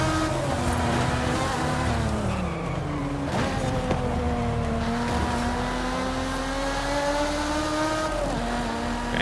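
Toyota Supra engine in Forza Horizon 5, a loud sustained drone with pitch rising and falling as the car revs and shifts, continuous throughout with some skid-like noise and no talk.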